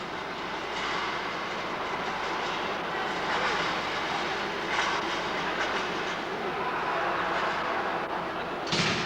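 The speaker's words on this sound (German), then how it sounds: "In der Kuppelhalle und auf den Bahnsteigen herrscht zu jeder Tageszeit emsiges Treiben." A steam-era train rumbles steadily at a busy railway station in Dresden, East Germany, in the 1970s. The rolling, clattering noise holds at a constant level with no voices.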